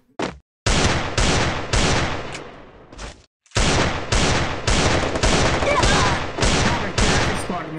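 Gunfire in the video game Free Fire: loud, dense bursts of rapid automatic shots in repeated volleys, separated by brief pauses, dominating the scene throughout.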